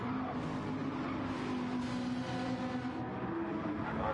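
Several racing cars in FlatOut roar by in a tight pack on the Dragon Trail seaside reverse track, a dense continuous engine drone with a steady pitched whine, loud and close throughout.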